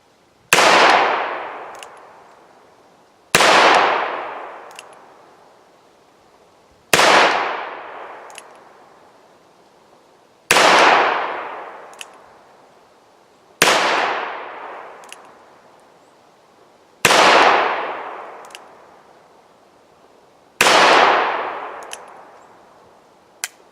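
Seven loud .357 Magnum shots from a Ruger GP100 revolver, fired at a steady pace roughly every three seconds at a steel silhouette target outdoors, each sharp crack trailing off with a faint metallic ring.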